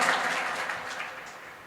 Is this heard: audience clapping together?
yes